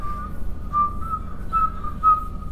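A person whistles softly in a home kitchen during dinner prep, a thin steady tone broken into a few short wavering notes, fairly quiet with no talk over it.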